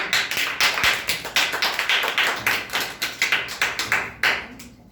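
An audience at a storytelling competition claps for a contestant, a lively round of sharp, fairly close claps pulsing in quick bursts that taper off near the end.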